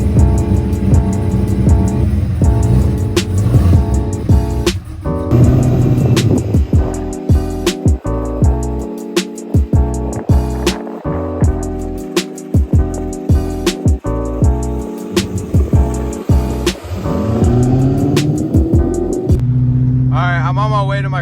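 A cammed 500HP Corvette C5 rumbles close up while driving, revving and climbing through gears in repeated surges, its lopey exhaust breaking up between shifts, with a brief voice near the end.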